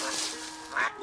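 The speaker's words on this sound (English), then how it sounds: "It's a duck." A duck gives a short quack near the end of a brief moment, over a soft background wash.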